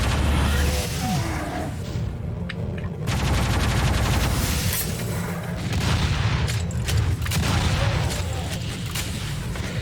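Rapid gunfire and booming blasts ring out in the classic shooter Doom, loud bursts of shots and explosions repeating across the clip with brief lulls between volleys.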